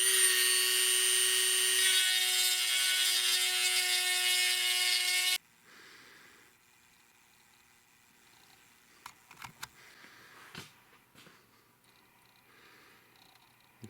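A power tool opening up the bolt holes on an 800 stator plate, heard as a loud, steady high-pitched whine for about five seconds, then stopping, followed by quiet handling and a few light knocks.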